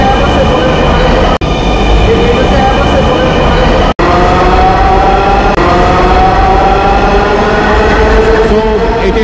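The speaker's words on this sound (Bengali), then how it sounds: "আগারগাঁও থেকে উত্তরার উদ্দেশ্যে হচ্ছে এই ট্রেনটি এখন ছেড়ে যাচ্ছে" A Dhaka Metro Rail train pulls out of Agargaon station, a loud steady rumble with rising electric motor whine and rail noise filling the platform, with voices faintly underneath.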